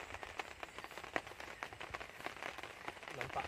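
Rain patters on a roof overhead beside the Kajang River in Belaga, a soft steady hiss with scattered drops, quiet and continuous with no talk.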